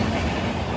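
A train rumbles steadily at Virar railway station, a broad close-up roar of carriages rolling past with no voices, brief but continuous.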